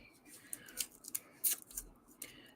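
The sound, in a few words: cutting with scissors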